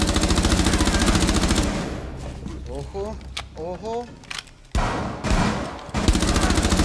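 Rapid automatic gunfire in the video game Rainbow Six Siege, loud and close, with a long sustained burst at the start, scattered single shots in the middle while a player speaks briefly, then further bursts near the end.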